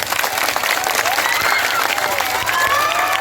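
A large crowd applauds at a political rally in Bihar, dense, steady clapping filling the air throughout with scattered cheers mixed in.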